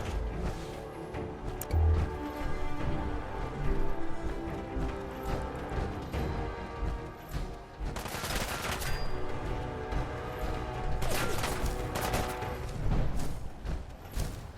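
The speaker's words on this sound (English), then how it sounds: "I hear the gunfire." Gunfire in the Fallout 4 video game on PS5, a faint run of scattered shots and bursts with crashing impacts, some clustered in sharp flurries against a steady game background.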